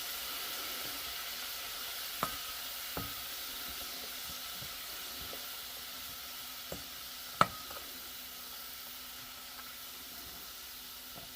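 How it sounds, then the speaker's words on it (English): Dry chili crisp ingredients frying in oil heated to 375 degrees, a steady quiet hiss with a few faint sharp pops scattered throughout. "It gives it a real quick fry on these dry ingredients."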